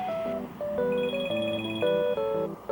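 An incoming call sets off a phone ringtone, a clean synthetic melody of bright stepped tones that plays steadily and close up with no voices over it.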